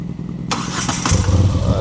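A 2025 Moto Guzzi V7 Sport motorcycle engine cranks and catches, settling into a low rumbling, vibrating idle at close range.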